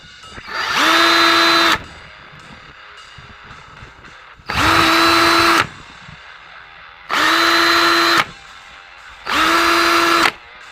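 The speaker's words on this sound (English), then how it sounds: "drill all your holes for your mounting bolts" A power drill with a 7/32 bit whines in four separate bursts drilling mounting-bolt holes in a truck bumper, each about a second or two, with short quiet gaps between them, close and loud.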